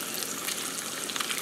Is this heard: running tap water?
yes